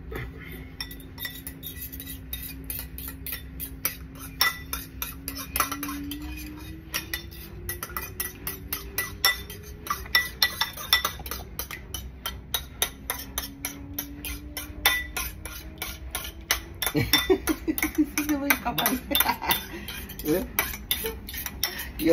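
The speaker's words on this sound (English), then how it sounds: "Now you whisk the egg." An egg being whisked in a bowl, a fast steady run of light metallic clinks and taps against the bowl that keeps going throughout, with occasional voices.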